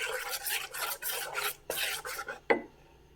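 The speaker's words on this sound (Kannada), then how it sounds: "ಎಲ್ಲನೂ ಕೂಡ ನಾವು ಒಂದು ಸರ್ತಿ ನೀಟಾಗಿ ಮಿಕ್ಸ್ ಮಾಡೋಣ" Ground kodo millet dosa batter being stirred by hand, with rhythmic scraping and rubbing strokes against the pot, close and fairly quiet, ending in a sharp knock near the end.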